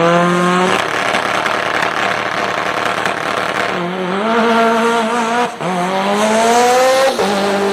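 A no-prep drag racing car on slicks launches hard at Manston, its engine screaming loud and close as revs climb through gears, with a brief dip and tire noise between pulls; no one speaks.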